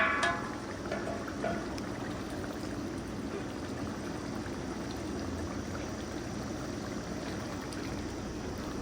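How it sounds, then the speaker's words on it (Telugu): Curry simmers in a covered pot for a quail fry, a faint, steady bubbling hiss that holds at low level throughout with no voices. "10 నిమిషాలు మూత పెట్టి ఉడికించుకోవాలి"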